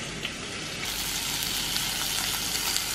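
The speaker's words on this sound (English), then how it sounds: "Do you guys hear that sizzling?" Egg for an omelette sizzles and bubbles in a hot frying pan, a steady, dense crackle heard up close with no talking.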